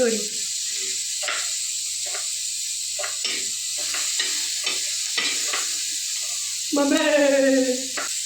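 Capsicum roasts on a hot iron tava, crackling and sizzling faintly while a spoon scrapes and clinks in short strokes, a louder burst of frying near the end, with people talking briefly over it.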